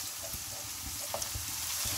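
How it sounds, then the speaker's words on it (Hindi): Garlic and ginger dropped into hot oil sizzle with a bright, continuous crackling hiss, joined by a few soft stirring knocks, close and steady, with no voices. "सिजलिंग स्टार्ट होते ही हमने इसके अंदर लहसुन अदरक डाल दिया है"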